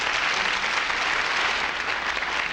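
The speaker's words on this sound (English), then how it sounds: "Give him a big round of applause." A television studio audience claps loudly and continuously, a thick, even burst of applause with no voices over it.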